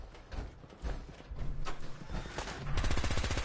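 Rapid bursts of automatic gunfire from the Fallout 4 video game, fairly quiet, with a denser rattling volley near the end.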